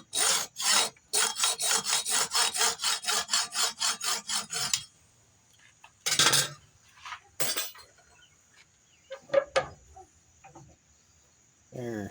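Rapid back-and-forth rasping strokes cut off excess pin material on a Bowie knife, about sixteen quick, evenly timed strokes for several seconds, followed by scattered clinks and handling knocks in a quieter room.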